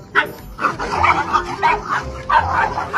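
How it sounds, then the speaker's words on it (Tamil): Dogs bark behind a gate in a rapid, loud, close run of yaps and barks that repeat throughout. "நாய்ங்க எப்பவும் கேட்டுக்கு இந்த பக்கம் தான் அதுங்க வீரத்தை காட்டும்."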